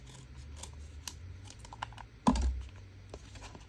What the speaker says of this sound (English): I'm going to peel it back and cut it.